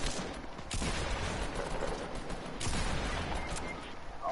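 Gunfire from a Fortnite match, with a dense run of shots and bursts across the whole stretch against a constant game backdrop. No one speaks over it.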